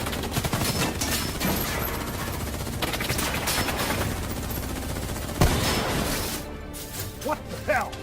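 Sustained automatic gunfire in a video game cutscene, dense rapid bursts with sharp impacts and crashes, one loud crack midway, under shouted voices.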